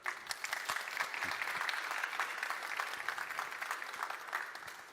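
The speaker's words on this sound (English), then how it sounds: "Please, an applause for our speaker." An audience at a developer conference session on mobile AI claps steadily for several seconds, a dense patter of many hands filling the room before it thins slightly at the end.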